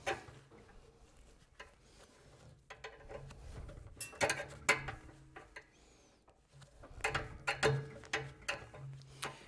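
Pliers or a screwdriver wiggle an old fuel line off the carburetor of a Cub Cadet 3224 3200 psi pressure washer, making quiet, irregular clicks, creaks and scraping bursts close up.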